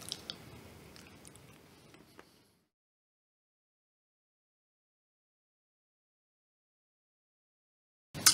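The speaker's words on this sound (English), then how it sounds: "the nibs give it a really nice crunch" Someone chewing a chocolate truffle with crunchy caramelized cacao nibs, close soft crunching and munching for about two seconds before the sound cuts to silence.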